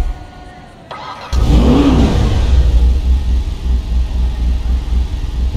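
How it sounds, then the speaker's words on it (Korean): Emperor ETR1 supercar in GTA 5, a game car likened to a Lexus LFA, bursts into a loud close exhaust rev after a brief quiet lead-in, then holds a strong sustained engine roar. "얘가 렉서스 LFA 같은데 배기만 한번 들어볼게요"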